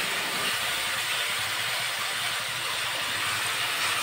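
A little water hits frying masala in a hot pan, producing a loud, steady broadband hiss of sizzling and steam that holds evenly throughout without pauses.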